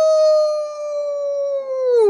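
A man imitates a werewolf howl with his voice, holding one loud, steady, pure-toned note for about two seconds before it bends down at the end.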